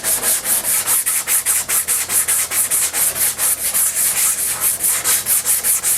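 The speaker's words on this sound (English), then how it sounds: "You just sand that until all the guide coat is removed." Body filler is block sanded with 180 grit sandpaper in quick, even back-and-forth strokes, a loud close raspy scrape repeating roughly three times per second with no talk.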